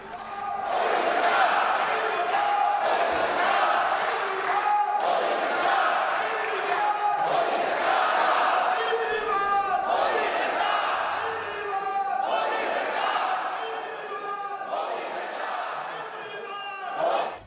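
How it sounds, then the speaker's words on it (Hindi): BJP MPs in Parliament chant slogans in unison, clap and thump their tables, a loud, continuous crowd roar with rhythmic surges of rising and falling chants lasting throughout. "नारेबाजी की, उनकी टेबल थपथपाई, तालियां बजाकर नारे लगाए और कहा कि अब की बार मोदी सरकार।"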